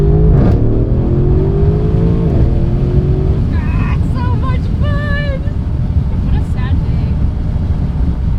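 A car engine roars and climbs in pitch as it accelerates hard, then drops away under wind rush, with brief voices later on.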